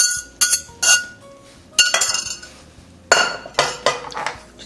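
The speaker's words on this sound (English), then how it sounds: "I'm going to use 2 large forks to give this a toss." Two large forks clink and scrape against a bowl while tossing a salad dressed with a warm poured mixture, sharp metallic taps in several separate bursts, close and loud with no talk.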